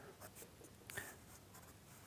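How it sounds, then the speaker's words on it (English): An HB pencil hatches across paper in soft, faint scratchy strokes, a quiet dry rasp repeating in short bursts with one slightly firmer stroke midway. "I'm using the HB pencil here"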